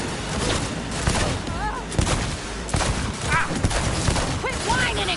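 Gunfire in the Cyberpunk 2077 combat scene, dense bursts and shots crackling under shouted in-game voices, with whooshing effects and music.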